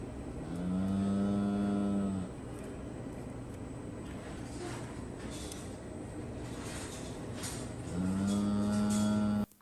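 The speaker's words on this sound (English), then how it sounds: "that is this cow making that mooing sound" A cow held in a hoof-trimming chute lets out two long loud moos, one at the start and one near the end, over a constant mechanical hum and clatter in the barn.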